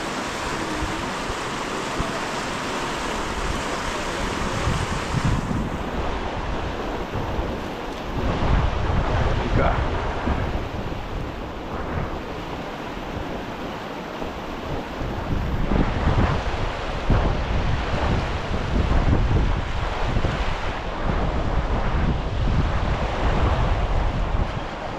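Rushing river rapids in the Amazon, a continuous broadband roar of churning water that stays loud and steady throughout, with wind buffeting the microphone and no talk.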